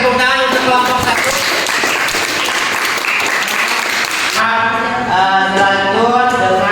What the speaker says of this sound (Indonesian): ayo lagi tepuk tangan untuk kelompok 1